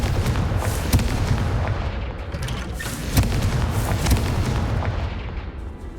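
A Confringo spell blast in the video game Hogwarts Legacy produces a heavy, rumbling explosive boom with scattered sharper cracks, loud and sustained over a few seconds before tailing off.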